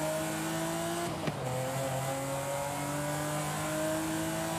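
A high-revving Ferrari 512 TR engine in Forza Horizon 5 drones steadily, with a brief gear-shift dip in pitch before the whine climbs again.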